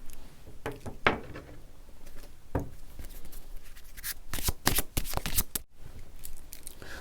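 Tarot cards are shuffled and drawn in a series of crisp slaps, flicks and rustles that come in short clustered bursts, close and fairly quiet, with no voices.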